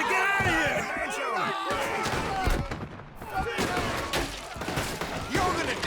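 Gunfire in Red Dead Redemption 2, a rapid volley of sharp shots and thuds mixed with shouting voices and game sound, fairly loud and dense throughout.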